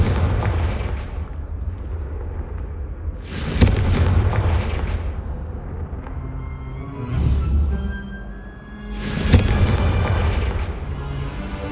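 Confringo explosion spells cast in Hogwarts Legacy, heard as repeated heavy booming blasts over a continuous low rumbling battle bed, loud and close, three main bursts spaced a few seconds apart, no talking.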